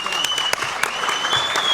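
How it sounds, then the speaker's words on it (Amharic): Applause from an audience at a live stream, dense clapping running throughout at steady loudness with a few sharper claps standing out. "እዚህ ጋር ያላችሁም ሰዎች በደንብ አጨብጭቡላቸው"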